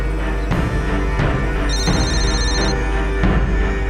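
A phone rings with a repeated electronic ringtone, loud and close, over a dense, busy musical backdrop in a dramatized scene; no voices are heard.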